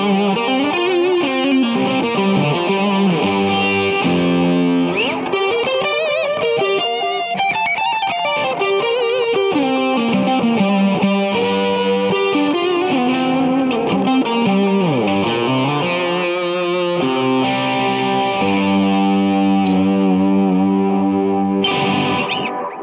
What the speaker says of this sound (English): So I have just a fun, really gained up and delayed sound here.